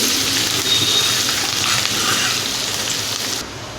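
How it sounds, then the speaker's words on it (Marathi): Spices with turmeric and coriander sautéing in a pan on low heat give a steady, close, even sizzle with faint stirring, continuing alone until it drops off abruptly at the end. "आता हे सर्व साहित्य आहे ते तीन ते चार मिनिट कमी गॅसवरतीच परतायचे आहे"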